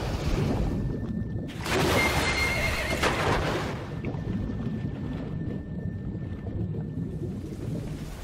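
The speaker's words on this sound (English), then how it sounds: "there's the horse. The horse survived." A horse in Metal Gear Solid 5: The Phantom Pain gives a loud, close whinny, then its hooves clip-clop steadily under wind-like game ambience, with no talking.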